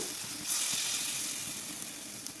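Banana snack frying in ghee in a pan, a constant bright sizzle and hiss with faint bubbling pops, close and steady throughout.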